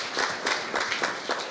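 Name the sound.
wedding guests applauding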